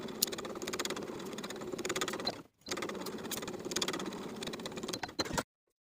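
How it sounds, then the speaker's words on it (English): A sewing machine stitches dress darts in two fast, steady runs close by, with a short pause between them before it stops. "Now I'm going to take it to my machine and sew from the outside edge to the point"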